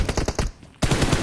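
Rapid bursts of automatic gunfire in the mobile shooter PUBG Mobile during a one-on-one team deathmatch fight: loud close cracks in a quick string, a brief lull, then another burst.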